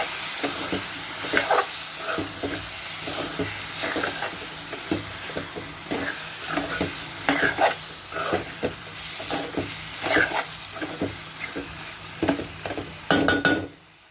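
Steady sizzling of green chillies frying in a pan for chicken curry, with repeated scraping and stirring strokes throughout, close and fairly loud.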